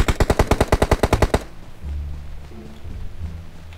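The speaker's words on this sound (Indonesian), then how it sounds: "Siapa tembak belakang aku ni?" Rapid automatic gunfire in the mobile battle royale game PUBG Mobile, a burst of about a dozen loud, evenly spaced shots lasting over a second, then a low rumbling game ambience.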